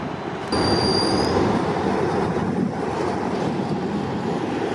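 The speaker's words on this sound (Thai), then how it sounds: "ขบวนพิเศษช่วยอันตรายเข้ามาแล้ว" A special rescue train rolls in on the railway at a Thai rail yard after a derailment, with a loud steady rumble of wheels and a brief high squeal of wheels on rail near the start, and no voices.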